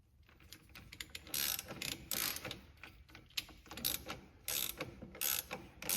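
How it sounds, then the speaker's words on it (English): A ratcheting wrench works on the steering rack bolts of a Subaru BRZ, Scion FRS or Toyota 86, giving repeated close bursts of rapid clicking ratchet strokes with short pauses between swings. "ratcheting wrench."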